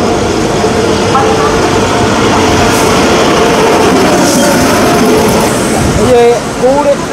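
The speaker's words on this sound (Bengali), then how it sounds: "এই পাশে ঢুকলো Gaur express, Sealdah Malda town Gaur express." The Sealdah–Malda Town Gaur Express enters New Farakka Junction with a loud, steady rumble of wheels on rails heard from nearby, ending with squeals and clanks as it slows.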